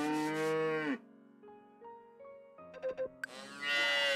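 A cartoonish cow moos twice in the farming video game Story of Seasons: Friends of Mineral Town, loud and close, with soft in-game chimes and blips between the calls.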